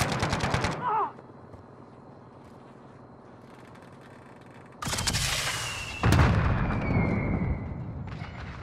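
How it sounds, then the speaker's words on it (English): Gunfire in Call of Duty: Modern Warfare: a loud burst of shots at the start, a quieter stretch of distant battle noise, then heavy close firing and blasts near the end, with no talk over it. "Ah, people shooting at me."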